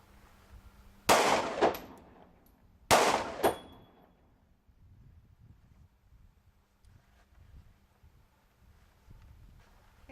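Two sharp handgun shots fired at a target on a qualification range, a couple of seconds apart, each loud, close and ringing briefly before quieter background shuffling.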